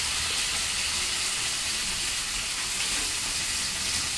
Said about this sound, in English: while frying that at high heat, proceed to mix your chicken in the pan